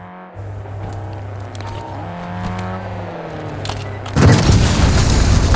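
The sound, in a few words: vehicle approaching in video game Warzone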